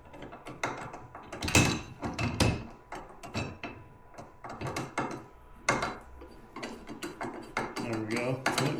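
A screwdriver drives screws into a bow mount for a trolling motor, making close, irregular ratcheting clicks and scraping turns in short bursts with brief pauses between them.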